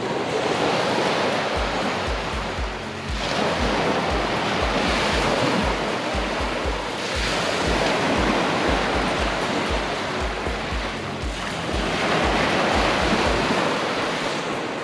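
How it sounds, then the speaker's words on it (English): Loud, close ocean surf rolls onto a beach at Hua Hin, Thailand, in a steady roar. Broad swells rise and fade every few seconds with no voices. "That's one of my favorite sounds in the whole world is the sound of the waves."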